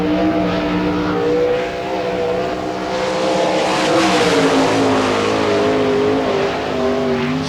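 A sprint car engine drones loudly as it powers out of turn four on the track at Hartford, Ohio, during the All Star Circuit of Champions Spring Nationals, its pitch rising and falling across the pass.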